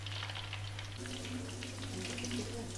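Thick banana chips frying in hot oil in a large wok, a steady dense sizzle and crackle that stays loud and close throughout, with no voices over it.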